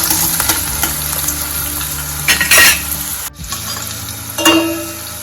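Chopped onions with green chillies sautéing in a pan for masala Maggi noodles, a close, steady sizzle with spatula scrapes and occasional metallic clinks on the pan.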